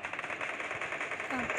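Rapid automatic gunfire from a Free Fire clash squad mobile game, a steady dense rattle of shots running throughout with game sounds layered in and voice chatter faintly underneath.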